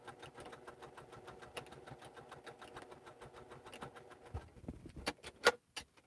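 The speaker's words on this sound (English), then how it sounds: "And then I'm also back stitching on this too." A sewing machine back-stitching through two-layer bag fabric, a steady close mechanical hum of the running needle that slows and stops near the end, followed by a few sharp clicks, with no talking.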